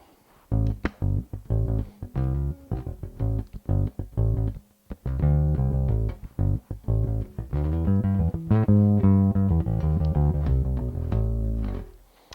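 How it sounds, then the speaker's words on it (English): Rickenbacker 4003 electric bass played through the neck pickup, warm and round, with a busy run of plucked notes and brief pauses, up close and alone. "This is the sound of the neck pickup."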